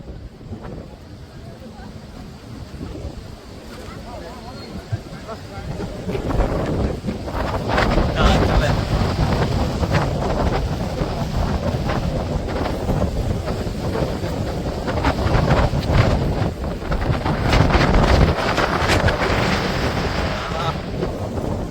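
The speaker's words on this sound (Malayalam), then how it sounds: "നല്ല കാറ്റടിക്കുന്നുണ്ട് നല്ല കാറ്റടിക്കുന്ന നല്ല തണുത്ത കാറ്റാണ്" Steady, strong cold wind around a hilltop temple near Gundlupet buffets the microphone with a broad roaring rush that swells louder partway through and keeps blowing without letup.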